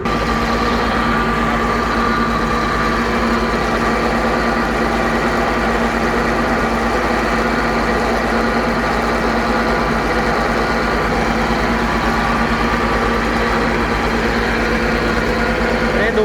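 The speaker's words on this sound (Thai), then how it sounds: "นี้สูบทำงานแล้วครับ เชื่อมต่อกับระบบ PTO ของ" A water pump runs off a tractor's PTO in hot, dusty conditions, giving a loud, constant mechanical drone with a steady hum that does not change, continuous throughout.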